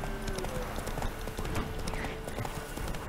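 Horse hooves clip-clop steadily in a video game, a continuous run of quick, even hoofbeats over busy game ambience, with no talking.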